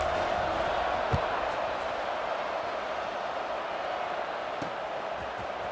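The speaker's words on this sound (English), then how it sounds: "this crowd is feeling themselves after that last drive" A stadium crowd in a college football video game, Duke hosting Pittsburgh, roars in a steady, dense wash of noise after a touchdown drive, with faint thuds now and then.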